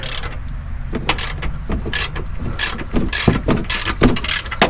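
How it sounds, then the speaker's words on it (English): Bolt being loosened on the chassis of a C5 Chevrolet Corvette Z06 resting on its wheels: a close, loud run of irregular metallic ratcheting clicks and knocks from hand tools, with no talking. "And now I'm gonna loosen this bolt."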